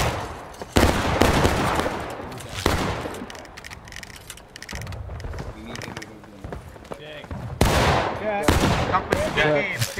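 Musket volleys ring out in the Civil War game War of Rights, several loud broadband cracks spread across the clip, with shouted commands and other voices in between.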